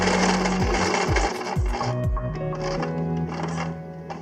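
A sewing machine stitches a strap on a Skechers Reggae sandal, a steady rapid mechanical whir of needle strokes with a few brief pauses and restarts, close and alone.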